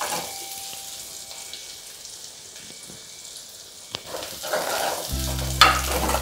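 Ingredients for paruppu keerai kadayal sauté in a pan with a steady soft sizzle, a few stirring scrapes, and a louder clatter near the end.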